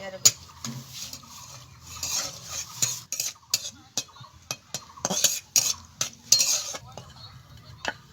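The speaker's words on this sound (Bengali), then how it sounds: "একইভাবে আমি কাজুটাকেও ভেজে নেব" Cashews fry in a little oil for chira pulao while a metal spoon stirs and scrapes the pan, giving sharp intermittent clinks and rubbing over a faint sizzle, close and without talking.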